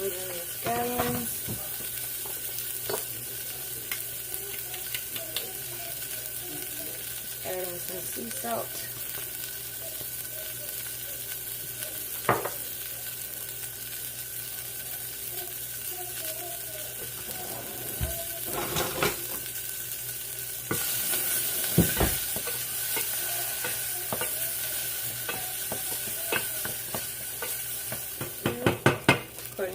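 Scallions fry in oil in a small pan with a steady close sizzle, broken by occasional clicks and stirring knocks, while a voice speaks briefly over it.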